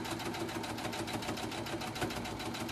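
A Brother Innovis 35 sewing machine stitching through a stack of four to eight fabric layers, its rapid, even needle rhythm running steadily and close up from start to finish, with no voices.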